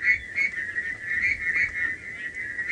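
Frogs call at sunset on a safari drive, a continuous chorus of high, trilling whistle-like notes that pulse steadily over a low rumbling background, moderately loud and fairly close.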